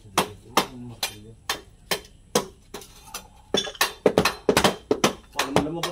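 Repeated sharp hammer strikes ring out at an uneven pace around a school's pipe, a metallic clanking close by with a few voices speaking in between.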